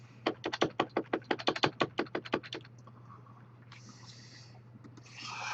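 Brisk typing on a computer keyboard, a quick run of about twenty close, crisp key clicks that stops abruptly, followed by quiet room noise and faint shuffling.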